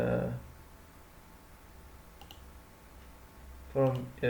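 A computer mouse gives a few faint clicks between bursts of speech, with a couple of sharper clicks near the end.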